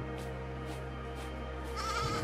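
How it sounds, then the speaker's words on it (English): A male sheep bleats in the video game AER: Memories of Old, a few short, faint bleats over a steady low game hum, with a brighter tone rising near the end. "Well, this is a male sheep."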